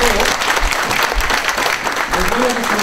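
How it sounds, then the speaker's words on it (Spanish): Loud, continuous crowd applause at a sports awards ceremony, dense and even across the whole stretch. "primero, aplauso para todos"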